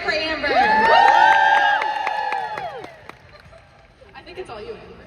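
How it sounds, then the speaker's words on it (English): Audience at a Nashville cowboy romance weekend cheering for an author on a panel: several voices whoop and holler together in rising, sustained cries, then fade to scattered murmurs. "Amber, everybody cheer for Amber."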